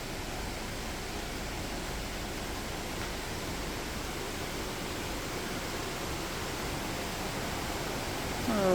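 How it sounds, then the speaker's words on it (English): Steady broadband rush of water flowing beneath the dark wooden Goldbrook Covered Bridge in Vermont, a constant even roar filling the scene with no voices, slightly louder in the final moment. "Rushing water going on under it."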